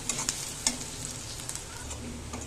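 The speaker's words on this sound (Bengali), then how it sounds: "এভাবে পেঁয়াজটা ভালো করে ভেজে একটু লাল লাল করে নেবেন" Steady sizzling of onions frying in a pan, with a few sharp scrapes and clinks of a spatula stirring, no voices.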